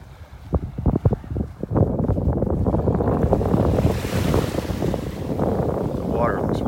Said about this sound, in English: A good breeze out here.